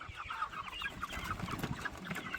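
Meat chickens on a farm clucking steadily while pecking at egg yolks spilled on the ground, a busy flock chorus of soft overlapping clucks at close range.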